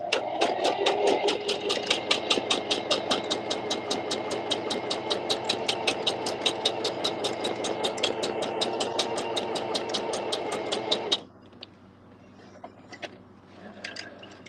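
A sewing machine runs in reverse, stitching backwards with a fast, even mechanical chatter of needle strokes for about eleven seconds before stopping abruptly, leaving a quiet room with small handling sounds.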